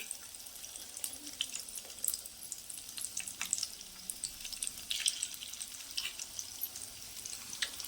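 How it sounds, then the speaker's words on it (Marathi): Chicken popcorn pieces deep-frying in hot oil, a steady crackling sizzle with scattered bright pops throughout, no voices. "ते बघा तेलावर आहे ना फ्राय करून वरती आलेत"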